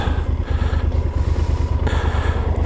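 A motorcycle engine runs at a steady idle, with a loud, close, throbbing low rumble and pulsing rhythm that holds throughout.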